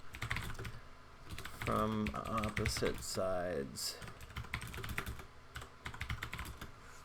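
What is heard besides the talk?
typing on a computer keyboard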